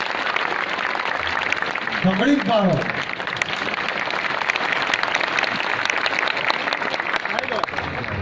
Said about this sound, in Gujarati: એક વાર જોરદાર તાળીઓ દીકરીના માનમાં